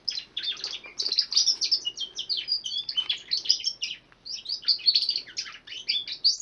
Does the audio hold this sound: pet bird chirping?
yes